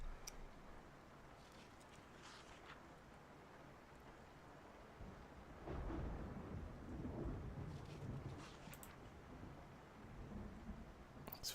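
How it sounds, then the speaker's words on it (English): Rain and thunder in the Project Zomboid video game: a steady wash of rainfall with low rumbling thunder swelling in the middle, fairly faint and without voices. "I think the rain made enough noise."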